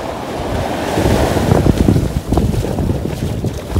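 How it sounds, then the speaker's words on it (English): Waves and surf wash onto a beach in Puerto Rico, a close, continuous roar that swells in the middle, with gusty wind buffeting the microphone. "We made it to the beach."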